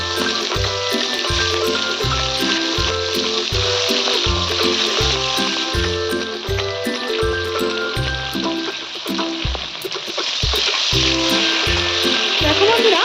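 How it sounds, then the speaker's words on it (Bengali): Marinated prawns deep frying in hot oil give a continuous bright sizzle, heard at moderate loudness beneath steady rhythmic background music. "চিংড়ি মাছগুলোকে যে ম্যারিনেট করে রেখে দিয়েছিলাম সেগুলিকে আমরা এক এক করে সবগুলোকে লাল করে ডিপ ফ্রাই করে ভেজে আমি তুলে নেব"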